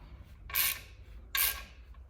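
A wrench works during a clutch install on a 1972 Chevelle, giving two short, close rasping bursts of ratcheting about a second apart over a low background hum.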